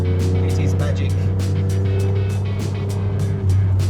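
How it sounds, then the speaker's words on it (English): A 1977 Maserati Merak SS engine drones steadily and loudly from inside the car while driving, with a low constant hum and repeated short bursts of higher noise, under ongoing talk. "That engine sounds fantastic."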